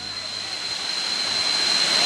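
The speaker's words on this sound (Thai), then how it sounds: "โอ้น้ำตกใหญ่ครับใหญ่" A large waterfall in Narathiwat, the Sipo falls, gives a constant rushing roar of water heard up close, steady and full, growing slightly louder toward the end.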